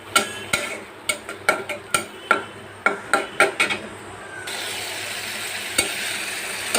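Onion masala with salt, turmeric and chilli stir-fried in a pan, a spoon scraping and knocking against the metal in quick irregular strokes, then a steady sizzle once the stirring pauses, close and loud with no talk.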